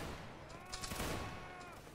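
A dense musket volley from an infantry line crackles out in a Waterloo battle video game, a continuous rolling roar of overlapping shots at moderate loudness.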